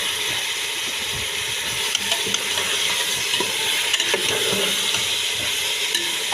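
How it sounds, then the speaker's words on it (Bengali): Chicken frying in a pan with browned onions, a steady close sizzle and hiss, with scattered scrapes and light clatter from stirring and the pan throughout, and no talking. "আর আমার পেঁয়াজ ভাজা হয়ে গেছে,"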